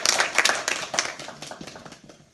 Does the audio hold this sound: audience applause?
yes